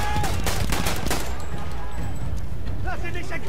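Shotgun and other gunfire ring out in the first-person shooter Battlefield 1: rapid, loud blasts and rattling shots pile up densely, mixed with game sounds and players talking over the fire.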